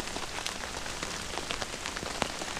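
Steady rain patters on a surface at a campsite during a thunderstorm, a dense continuous hiss with scattered sharper drops, close and even throughout, with no voices.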